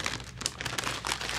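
A resealable bag of spicy snacks is opened up close, giving a dense burst of crisp plastic crinkling and rustling that lasts the whole moment.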